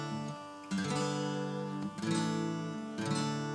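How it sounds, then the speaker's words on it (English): Three sustained major chords, a I, IV and V, played one after another on a keyboard-like instrument, each ringing clearly before the next begins. "if we have a major chord structure, it sounds like this."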